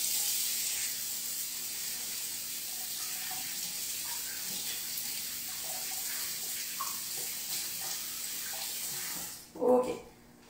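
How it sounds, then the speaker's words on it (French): Hands being rinsed under a running kitchen tap while baking a chocolate-raspberry cake, a steady close hiss of flowing water for nearly ten seconds that cuts off, followed by a brief splash or clatter at the end. "je vais aller me rincer les mains"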